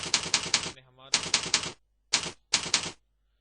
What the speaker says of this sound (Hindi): मैं माइक्रोसॉफ्ट वर्ड में किसी भी डॉक्यूमेंट को टाइप करता हूँ